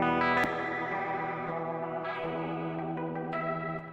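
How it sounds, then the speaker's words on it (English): Electric guitar played through a fast chorus effect, sustained chords shimmering with rapid wavering modulation and a few fresh strums, close and clear with no voices. "you can hear that this is a much faster chorus"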